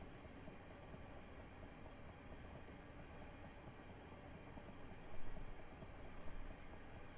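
Train running in Train Simulator 2018 on a fast Chatham main line commute, a steady broadband rumble and rolling wheel noise that swells briefly with a couple of louder clanks near the end.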